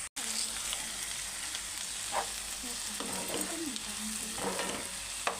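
Tomatoes sizzle and fry in a spiced oil tempering for prawn curry, a steady hiss close up with a few scraping stirs of the spoon in the pan, no talking.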